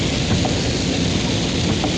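Heavy rain at a fish market, a dense, constant roar of downpour that fills the whole stretch evenly and loudly with no voices over it.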